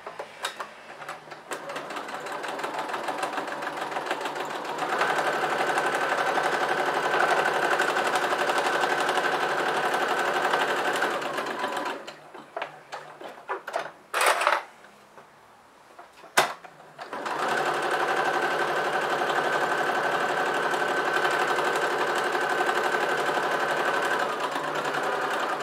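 A sewing machine stitches a fabric napkin holder in long steady runs, pausing briefly midway at a corner with a few clicks before resuming its even hum.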